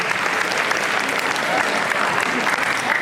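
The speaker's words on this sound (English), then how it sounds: "Give him a round of applause." A school assembly audience gives a round of applause, a dense, steady wash of clapping that fills the room without a break.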